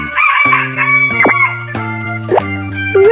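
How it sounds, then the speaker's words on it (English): A rooster crows in a loud, close cock-a-doodle-doo with a rising and falling call over about three seconds, with a few short bursts along the way. "Rooster."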